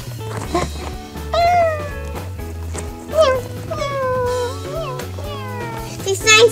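A voice imitates a cat meowing over and over in a sing-song way, loud and close, with music playing underneath throughout.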